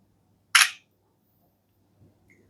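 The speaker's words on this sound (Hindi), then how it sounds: "तो एक पिक्चर में क्लिक कर लेता हूँ।" One crisp shutter click from the 8-megapixel front camera of an Oppo A5 Pro phone, a short sharp snap against near silence, followed by a couple of very faint small sounds.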